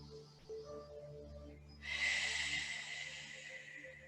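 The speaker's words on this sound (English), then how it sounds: "Just a couple breaths." A single long, breathy exhale rises after a quiet moment and carries on steadily, close and fairly soft, as someone breathes deeply through a yoga stretch while working toward Dancer Pose.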